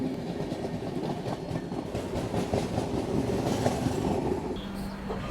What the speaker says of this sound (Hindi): तो फाइनली अपनी ट्रेन जो है वो अब निकल चुकी है।